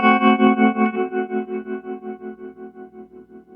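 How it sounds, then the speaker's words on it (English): Guitar sent through a reverb pedal and then a tremolo pedal rings out as one sustained chord, its volume pulsing in a steady fast rhythm that slowly fades while the reverb keeps the dips from going silent. "the sound will get reverby first, and then that entire reverby sound will be sent through the tremolo pedal"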